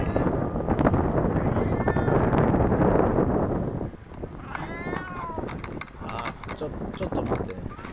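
A cat meows near a ski lift at Chausuyama Highland in Aichi, its short wavering cries rising over steady wind buffeting the microphone and a background of voices.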